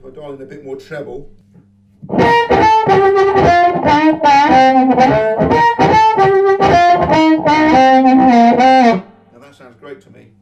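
Electric guitar through a Fat Tone amp with extra treble dialed in, a sustained burst of strummed chords and picked notes loud and up close, bracketed by brief quieter playing at the start and end.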